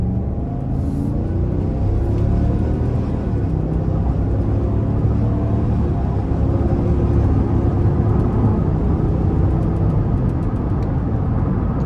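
Low, steady engine rumble from a 2024 Cadillac Escalade Premium Luxury with a 10-speed automatic, heard from inside the cabin as it accelerates moderately, with road noise and no talking.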